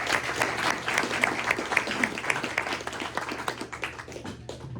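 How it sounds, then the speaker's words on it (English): A room of luncheon guests gives a round of applause, with dense, lively clapping that holds for several seconds and then gradually thins toward the end. "one more round of applause for Logan."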